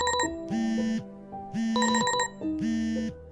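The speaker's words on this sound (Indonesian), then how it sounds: "Alarm HP Naufal berbunyi di jam 8 pagi" Mobile phone alarm ringing at 8 am, a loud electronic tone that repeats in three evenly spaced bursts, each a sustained buzzing note topped by bright ringing overtones, with nothing else heard.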